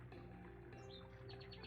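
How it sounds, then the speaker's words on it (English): Soft video game bird chirps and tweets rise briefly over a low steady fridge hum, a few quick high calls near the end. "You'll also hear the birds chirping at random intervals."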